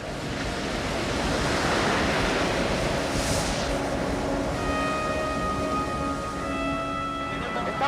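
Heavy, rough sea surf churns steadily and loudly throughout, with constant wind rushing over the water near a navigation route offshore from an island.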